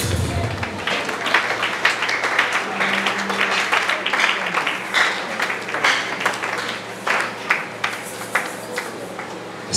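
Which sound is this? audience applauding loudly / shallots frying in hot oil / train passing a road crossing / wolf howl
audience applauding loudly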